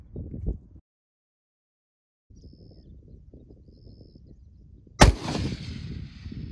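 A single loud, sharp rifle shot from a 25 GPC or 6.5 Creedmoor fired at a prairie dog cracks out after a quiet stretch of faint outdoor ambience, its report trailing off into a rumbling echo.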